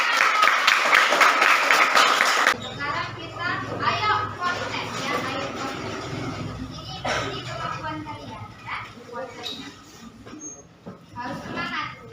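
Applause and cheering burst out loudly in a classroom at first, then give way to a busy room of children chattering and calling out.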